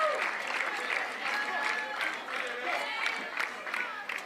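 Crowd applause at a professional pickleball doubles match at the Vizzy Atlanta Open: steady, moderately distant clapping runs throughout, with commentary voices over it.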